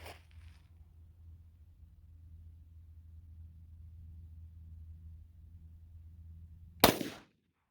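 A single sharp gunshot from a Glock 33 pistol firing .357 SIG Underwood 124 grain JHP rounds cracks out near the end, loud and close, over a steady low outdoor rumble.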